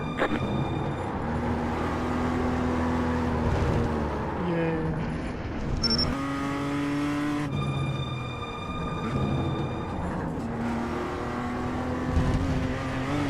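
Race car engine in the iRacing sim at Winton, revving and changing pitch through gear shifts over about thirteen seconds, loud and continuous, with a brief spoken word near the start.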